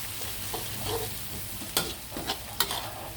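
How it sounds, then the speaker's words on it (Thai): Garlic stir-frying in a hot pan for a Thai basil stir-fry, a low steady sizzle broken by several sharp spatula scrapes and clacks against the pan. "ผัดกระเทียมให้หอม อร่อยไม่อร่อยก็ขึ้นอยู่กับการผัดกระเทียมนี่แหละค่ะ"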